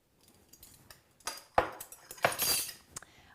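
Salt gets stirred into fresh farmers cheese with a utensil, a run of light scraping clinks and taps against the bowl that builds up in the middle, near and fairly soft.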